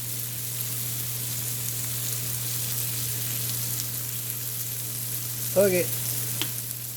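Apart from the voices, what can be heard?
pine mushrooms (matsutake) frying in a pan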